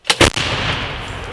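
A heavy M777 howitzer fires two close booming blasts, loud and near, followed by a long rumbling echo that slowly fades.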